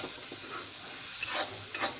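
Masala frying in a pan for stuffed capsicum, a loud, steady close sizzle with a couple of brief stirring scrapes near the end.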